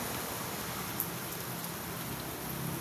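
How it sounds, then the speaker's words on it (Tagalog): Steady rain falling outdoors, a soft continuous hiss of drops with faint scattered patter, fairly quiet and without voices. "At maulan na naman."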